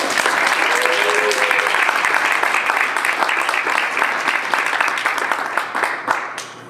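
A theatre audience at a musical premiere applauds loudly and steadily, dense clapping filling the space and slowly thinning toward the end, with a brief voice early on.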